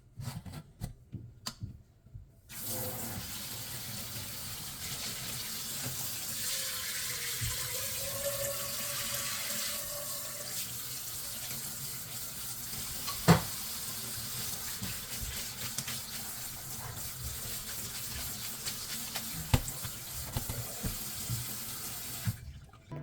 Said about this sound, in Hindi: स्पैगेटीज़ को स्ट्रेन करने के बाद मैंने इसके ऊपर ठंडा पानी डाल दिया था।